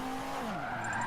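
Car tires skidding through a 360 spin in Forza 7, a loud continuous screech whose pitch bends downward and then rises again over about a second, close and alone under the engine drone.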